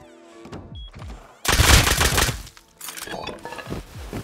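Nail gun firing in the video game Rust, a dense burst of rapid sharp cracks lasting about a second, then quieter scattered shots and clatter around it.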